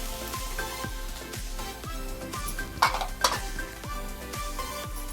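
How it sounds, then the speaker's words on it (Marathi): Something is sautéed in a pan only until its raw taste is gone, during samosa and chutney cooking, and a spoon scrapes and taps the pan in a steady rhythm over a faint sizzle, with two louder clanks near the middle. "फक्त त्याच्यातला कच्चेपणा जाण्यासाठी आपण त्याला परतून घेऊया"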